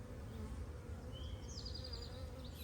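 A dense, even hum of many honeybees from an opened hive holding drones, a continuous close buzzing with no breaks or speech, a faint high tone drifting over it.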